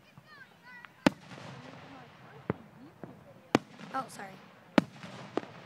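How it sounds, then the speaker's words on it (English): Fireworks burst in a night display, with five sharp, loud bangs spaced a second or two apart and crackling, whistling trails between them, while people talk and react nearby. "That's the best firework I've seen all night"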